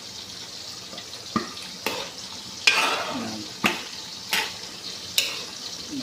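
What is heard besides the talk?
stirring meat frying in a pot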